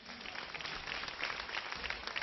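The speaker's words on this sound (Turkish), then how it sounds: "Lütfen bir alkış yapar mıyız?" A TV studio audience applauds on a live music show, dense steady clapping throughout the short stretch, fairly distant and muffled, with no talk over it.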